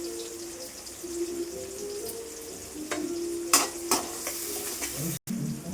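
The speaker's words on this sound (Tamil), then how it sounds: "கடாயில் எண்ணெய் விட்டுருக்கேன், வெங்காயம் சேர்த்துக்கலாம். 2 வெங்காயம், 2 பச்சை மிளகாய், இஞ்சி பூண்டு கொஞ்சம் சேர்த்துக்கிறேன்." Onions, green chillies, ginger and garlic frying in oil in a pan, a continuous close sizzle with a few sharp spoon scrapes and stirring knocks toward the end, no voices.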